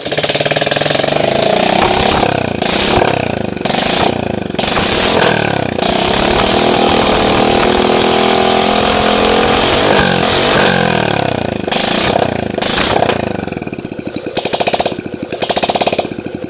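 A Yamaha Jupiter MX motorcycle engine runs after reassembly with new piston rings, a loud continuous rough clatter holding steady throughout with no talk.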